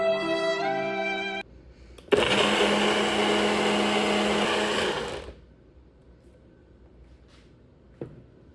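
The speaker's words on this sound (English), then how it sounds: "Then you want to blend until fully combined, which I'm going to use my Nutribullet" A loud, close Nutribullet blender roars for about three seconds blending batter after a short musical tone, then cuts off, leaving quiet with a faint click.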